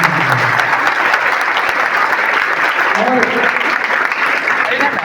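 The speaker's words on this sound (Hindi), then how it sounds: "हम चाहते हैं कि आप एक जोरदार ताली दें" A gathering at a school event in Sangrampur breaks into loud, sustained applause, with dense clapping filling the whole stretch while a voice is also heard over it.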